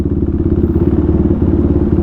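A KTM Duke 390 motorcycle engine idles loudly and close by, with a steady pulsing low rumble throughout.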